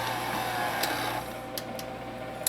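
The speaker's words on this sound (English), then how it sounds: "I'm just going to let this knead for another 5 minutes until it's smooth and elastic" A stand mixer with a dough hook kneads hot dog roll dough, giving a steady low motor hum with faint rhythmic ticking and a few brief clicks, heard alone.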